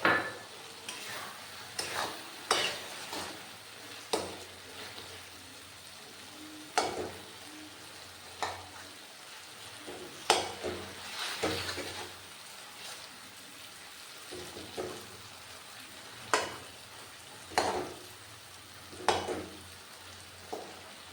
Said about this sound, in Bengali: এবার সেদ্ধ করা আলুটা দিয়ে দিলাম।